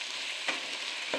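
Ivy gourd (kundru) frying in a pan for a Bengali snack: a soft continuous sizzle broken by two quick scraping stirs.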